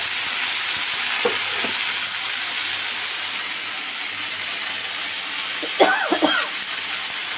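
Leafy saag greens fry in a pan with chilli, a steady loud sizzle running throughout, while someone talks briefly over it.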